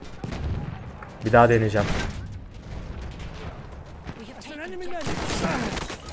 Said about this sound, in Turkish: Baskı ateşi yedik lan.